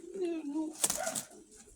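A racing pigeon gives a short, soft, low coo nearby, followed by a brief rustle that may be wing movement, all faint and quick.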